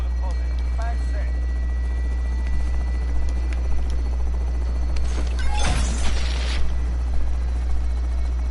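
A helicopter arrives in the Call of Duty Warzone video game, a steady low rotor drone rising to a louder rush toward the middle, with a voice talking over it.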